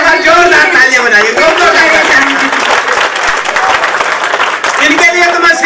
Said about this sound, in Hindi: जोरदार तालियां बनाइए।